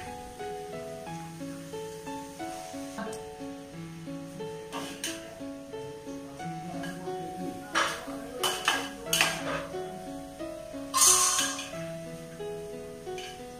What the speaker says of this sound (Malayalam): ഇനി നമുക്ക് പപ്പയ ഇടാം.